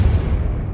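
Depulso force spell in Hogwarts Legacy knocking a precariously hanging object down: a short, loud, muffled thump with a rumbling low-frequency body lasting under a second.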